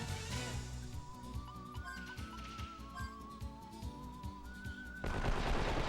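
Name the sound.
machine gun fire in video game Wild Arms 3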